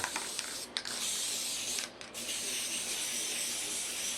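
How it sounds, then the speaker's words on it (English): A steady, loud hiss of spray glue from an aerosol can held close to rug edges, with brief pauses between bursts before continuing. "spray these edges with some glue"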